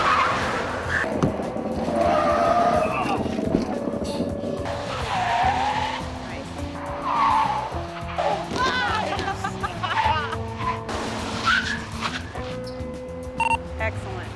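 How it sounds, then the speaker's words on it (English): Car braking hard to a full stop with ABS during sheriff's emergency vehicle driving training, tires squealing and skidding in loud repeated bursts with engine noise, while people talk over it. "push the brake pedal completely down to the floor and do not let up on it until you come to a complete stop"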